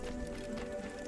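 A horse galloping in Assassin's Creed, quick clip-clop hoofbeats under a steady game soundscape, brief and moderately close.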